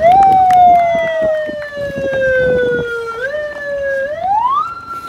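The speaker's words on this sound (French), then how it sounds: "Elle est où la sirène?" Fire brigade siren at Disneyland Paris during a run weekend, a loud two-tone wail that sweeps and steps in pitch, dipping and then rising again, with crowd noise and faint voices underneath.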